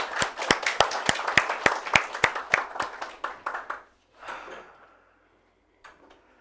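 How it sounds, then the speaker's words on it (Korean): Students at a civil engineering exam interview lecture clap together on cue: about a dozen sharp, evenly spaced unison claps, then a brief scattered patter and a couple of faint trailing claps before silence. "우리 박수 한번 치고 시작할까요?"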